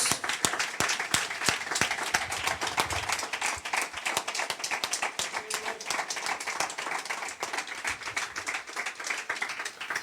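A congregation claps during a Spanish-language church service. Sharp, distinct handclaps come in a brisk, fairly regular stream for ten seconds, close and lively, with little talk over them.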